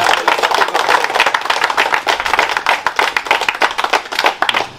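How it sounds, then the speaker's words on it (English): Close, loud rhythmic hand clapping from an audience at an award event in Trench Town, Jamaica, a steady fast beat of sharp claps filling the whole moment. "Give them a round of applause"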